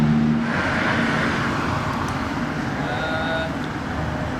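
Audi RS6 pulling up among modified supercars, a loud low engine rumble close by that stays steady and then eases slightly as it arrives, with faint tonal whines above.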